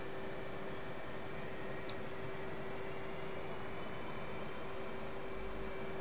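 A steady, continuous jet engine drone from an F/A-18C Hornet on a taxiway in the DCS flight simulator, holding a constant whine and rumble at moderate level with no change in pitch.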